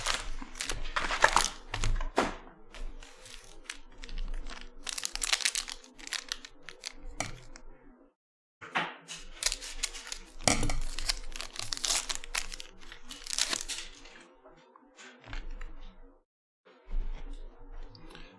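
Packs from a 2021 Chronicles Draft Picks college football hobby box are torn open, with repeated close crinkling and ripping of foil wrappers in bursts, broken by brief pauses, with no talking.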